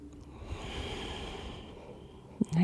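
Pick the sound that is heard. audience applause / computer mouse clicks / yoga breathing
yoga breathing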